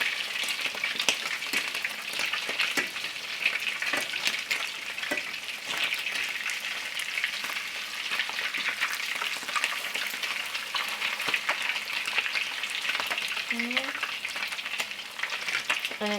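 Salmon cakes sizzle steadily in a frying pan, a continuous close crackle of hot fat with scattered sharper pops and a brief scrape near the end as the patties finish cooking on their second side.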